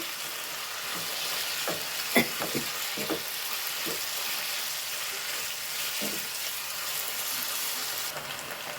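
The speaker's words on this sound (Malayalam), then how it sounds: "ഒന്ന് വറുത്തെടുക്കട്ടെ." Omelette frying in a hot pan, a constant crackling hiss with a few sharper pops and stirring clinks, no talking.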